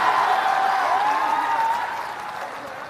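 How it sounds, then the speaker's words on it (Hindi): Crowd applause at a rally in Gandhi Maidan fills the space, a dense wash of clapping that gradually fades, with a faint voice rising above it. "बजाइए ताली जरा"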